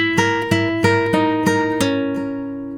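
A plucked nylon-string guitar picks out a short arpeggiated flamenco rumba passage, six or seven ringing note attacks in steady rhythm, close and clear, with no voices.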